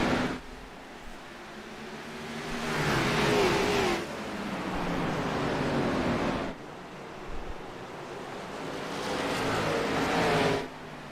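Race cars roar past as the field accelerates on a restart after a pace car period, with long swelling and fading engine sweeps that come in waves, close and loud, with no talking over them.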